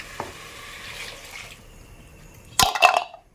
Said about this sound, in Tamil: தேவையான தண்ணி ஊற்றிக்கலாம், நமக்கு எவ்வளோ குழம்பு வேணுமோ அவ்வளோ வச்சுக்கலாம்.